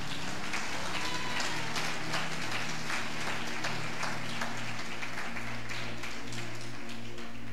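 A congregation at a deliverance service claps for the Lord in a church, a continuous, moderately distant wash of hand claps over a low, steady musical drone.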